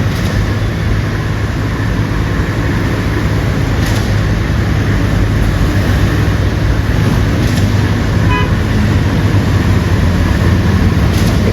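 Busy morning road traffic rolls past near LRT construction in Jakarta, a loud continuous roar of engines and tyres with occasional passing vehicles, no talk.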